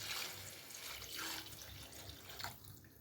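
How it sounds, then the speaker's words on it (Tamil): Water is poured into a pot of curry being cooked, a steady close splashing and running stream that continues for the whole stretch without speech. "கிண்டி நல்லா தண்ணி எடுத்து ஊற்றுறோம்"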